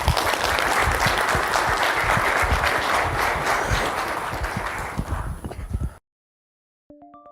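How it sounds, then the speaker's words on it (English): A group applauds at a story-sharing session, a sustained burst of clapping that thins out and stops abruptly, followed by silence and a brief tone. "a round of applause for everyone who shared a story"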